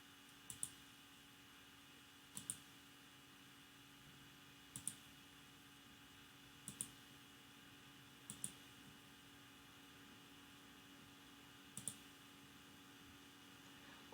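A computer mouse clicking through tabs on a survey website, six faint single clicks spaced a couple of seconds apart against a quiet room hum.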